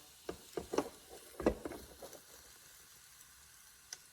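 A shrimp quesadilla tortilla on a hot griddle gives a faint low sizzle, broken by a few soft taps and presses early on, then settles into quiet frying.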